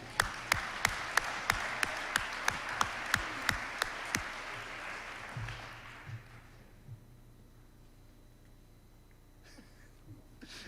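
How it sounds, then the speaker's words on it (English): Audience applause at a senior academic awards ceremony, a burst of sharp, evenly spaced claps for about four seconds that quickly thins and fades into quiet room tone with a few stray claps. "how about an applause for Mr. Frecky?"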